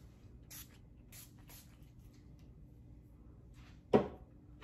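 A few short, soft hissing bursts of hair shine spray near the start, then a louder, sharper spray squirt near the end, otherwise quiet.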